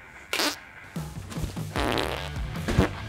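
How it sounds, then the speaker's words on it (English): A person farts several times in close succession, producing short, close, low rumbling bursts with no talking. "Before I was a carnivore, I barely farted."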